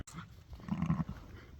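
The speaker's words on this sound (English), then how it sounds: "Dogs." Dogs growl and snarl while chasing each other on a sheep farm, a close rough burst of growls peaking midway through the short clip.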